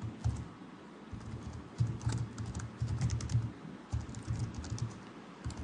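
Fingers type login details, an email and password, on a computer keyboard in quick, irregular bursts of close, crisp key clicks with brief pauses between them.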